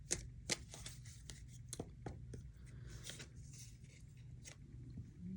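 A deck of angel number cards is shuffled up close, a quiet, steady riffling and flicking of card edges with a few sharper snaps, against a faint low hum.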